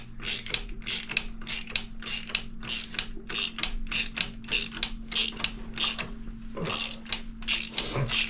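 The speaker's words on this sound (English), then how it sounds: "tightens down the lug nut on the top of the injector head, and it slowly pulls out the injector" A ratchet tightens the lug nut on an injector puller, slowly drawing an injector out of a Cummins 6BTA 5.9 diesel engine. Rapid, even clicks repeat close up for the whole stretch, with a brief pause near the end.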